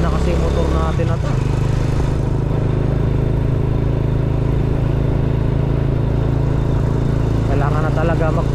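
An old motorcycle straining uphill on a mountain road in Antipolo, Rizal: a constant loud, labouring engine drone at high revs with little pull, while someone talks over it.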